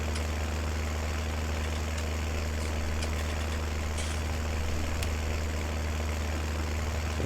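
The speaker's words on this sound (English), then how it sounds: "just because of how slow the tractor is moving" A tractor engine in Farming Simulator 19 drones steadily at low speed, a constant low rumbling hum with faint clicks over it and no voices.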